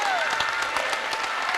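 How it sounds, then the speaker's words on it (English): Crowd applause in a gym during a high school girls' basketball sectional championship, brief and fairly loud, with an announcer talking over it and a squeak or whistle-like tone near the start. "Give her a round of applause."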